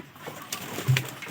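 A pigeon gives a short, soft coo at close range over quiet surroundings, with no one talking.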